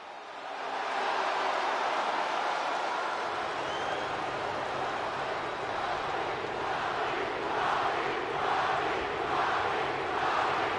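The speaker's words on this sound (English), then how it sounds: "The crowd chant for The Rock's name here in Orlando, Florida." A large arena crowd in Orlando, Florida chants for The Rock in the WWE 2K25 wrestling video game, a steady dense roar with rhythmic surges of chanting building toward the end.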